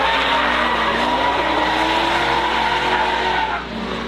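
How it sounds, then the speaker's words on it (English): A Corvette drifting at a drift event, its tires squealing and skidding continuously at high angle while the engine roars loudly and steadily, close and intense, easing off briefly near the end. "a lot of angle and a bit of a bobble going into outer zone number 3 for Giddings"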